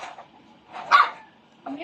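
A dog barks a few times in short bursts, mixed with nearby voices and outdoor background noise.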